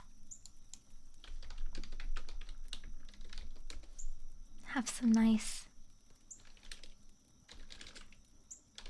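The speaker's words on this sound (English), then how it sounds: "Nice, fancy gamer keyboard ASMR." Soft, scattered key clicks on a fancy gamer keyboard sound close and quiet in an ASMR setting, while a voice speaks briefly in the middle.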